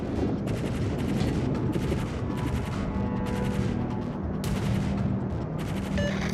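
Battleship guns in the naval combat game World of Warships, rapid bursts of gunfire and booming volleys rolling continuously over a dense, loud battle din.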